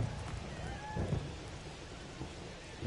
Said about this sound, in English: It looks like the rain is starting to slow down a little bit.